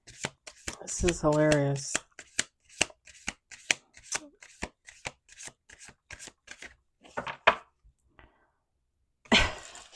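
A deck of cards being shuffled in quick, crisp riffling bursts, with a short whirring riffle early and scattered snaps, while a person speaks briefly over the shuffling.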